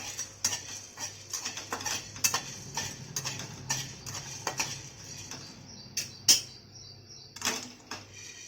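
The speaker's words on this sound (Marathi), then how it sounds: "आता हे लवंग गरम झालेले आहेत आता मी याच्यातच काय करते मी ती दाणे भाजून घेते" Cloves and spices are dry-roasted in a pan for mango pickle, heard as sharp scattered clinks and scrapes of a utensil against metal, close and moderately loud over a faint low hum.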